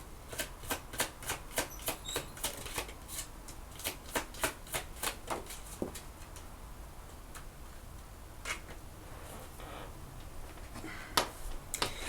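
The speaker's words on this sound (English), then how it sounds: "let's go ahead and actually pull some romance angel cards here" Romance angel oracle cards shuffled by hand, a rapid run of crisp riffling flicks and taps in a steady rhythm, close and moderately loud, thinning to a few scattered snaps near the end.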